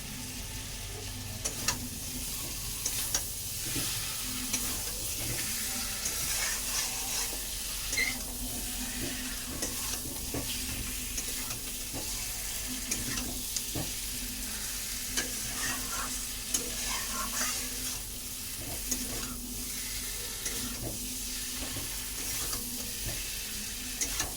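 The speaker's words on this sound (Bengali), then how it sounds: "এখানে একটু বটবটি কড়াই ভাজা হয়ে গেছে" Barbati beans fry and get stirred in a wok, a steady sizzle with frequent scraping clicks from the spatula throughout, close up and with no talking.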